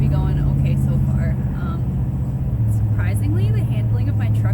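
A pickup truck drives steadily along a road, its low engine drone and road rumble constant and close.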